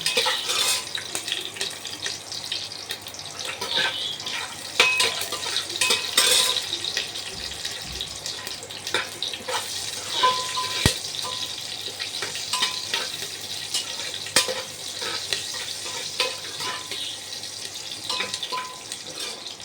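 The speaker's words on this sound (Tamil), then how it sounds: "நான் 2 பச்சை மிளகா போடுறேன்" Two green chillies go into a pan for chicken biryani and are stirred while frying, a steady broadband sizzle with scattered scrapes and clinks of the utensil against the pan, no voices.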